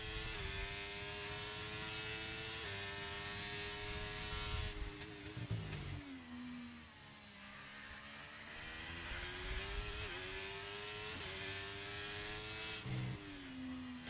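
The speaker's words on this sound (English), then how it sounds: "Revving a lot into the first corner, reaching 326 kph, braking into turn 1." A race car engine revs hard into the first corner at Bahrain, a loud, steady harmonic whine rising through gears, then dipping under braking before climbing again, with no talk.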